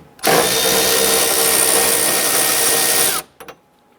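A power drill loosens an upper bolt on the front door of a 2005-2010 Chrysler 300 during a window motor replacement, giving one steady, loud whine of about three seconds that stops abruptly, followed by a couple of faint clicks.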